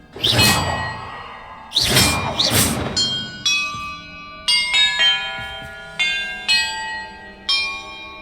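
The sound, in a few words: bells ringing in video game Hogwarts Legacy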